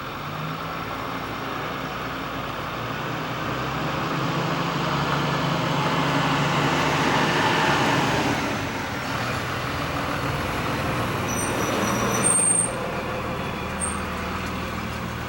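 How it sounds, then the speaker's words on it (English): A UPS delivery truck passes on a street near a house under roof repair, its broad engine and road rumble swelling toward the middle and fading, with a faint high chirp near the end. "I had to let the UPS truck go by."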